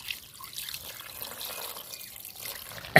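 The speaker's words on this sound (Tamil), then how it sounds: "அந்த தண்ணி ஊற்றியாச்சு" Water pours into a clay pot of chicken biryani, a soft continuous trickle and splash at moderate distance, ending in a brief louder clatter.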